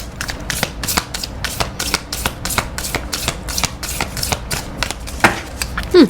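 Tarot cards are shuffled in quick repeated riffles, a crisp rhythmic flapping up close, with no talking.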